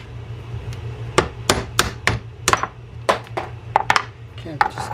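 Sharp metal taps on a part of a Berkley 4201 spinning fishing reel clamped in a workman's vise, a dozen or so irregular close knocks over a steady low hum, with background voice.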